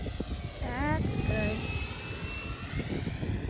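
A 107-inch VQ/Nexa Pilatus PC-6 Turbo Porter model airplane drones steadily at a distance, its engine tone drifting, in gusty wind with people talking over it.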